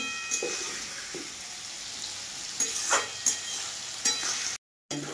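Chicken pieces frying in a pan, a continuous sizzle broken by scraping stir strokes, with a brief dropout near the end.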